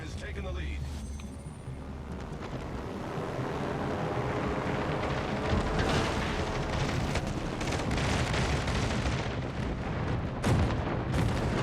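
Heavy booming impacts and rumbling explosions from torpedo hits on an enemy ship during a naval battle game, with aircraft carriers in play; dense, loud and continuous, a sharper blast near the end, under game noise.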